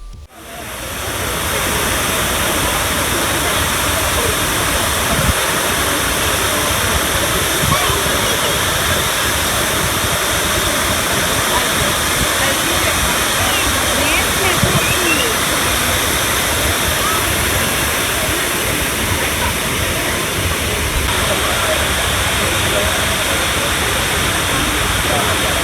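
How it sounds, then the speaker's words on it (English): Loud, constant rushing water roars without pause at a memorial fountain in New York City, a dense wash like a waterfall, close and steady for the whole stretch. "everything was silent except for the sound of rushing"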